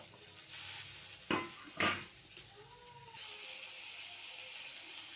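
Tomatoes with crushed ginger and garlic are sautéed in a pan for a chicken liver fry. A couple of sharp utensil clanks come first, then a soft, steady sizzle settles in nearby.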